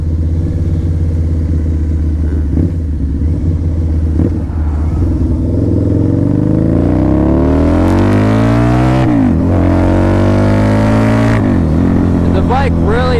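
A 2003 Harley-Davidson V-Rod 100th anniversary edition motorcycle engine rumbles steadily, then revs up hard with rising pitch through several gear shifts, loud and close throughout.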